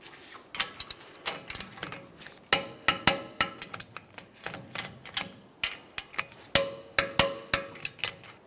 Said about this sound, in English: Now that they're all snug, we'll torque them.